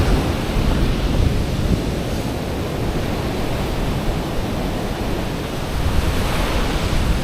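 Strong ocean surf pounding a beach along the Hoi An coastline, a dense, continuous roar of breaking waves with wind rushing across the microphone, loud and unbroken throughout.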